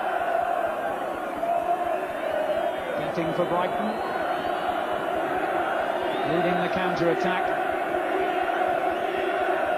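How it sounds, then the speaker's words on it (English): Football crowd at a 1984 Division 2 match between Newcastle and Brighton chanting Kevin Keegan's name, a dense continuous roar with rising shouts, while a commentator talks over it. "the crowd have only one name on their lips"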